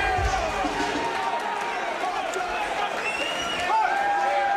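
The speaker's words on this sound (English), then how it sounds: "And there's the Trudeau camp cheering on their man" Supporters of Trudeau cheer and shout at a charity boxing match, a dense crowd roar that swells near the end while a commentator talks over it.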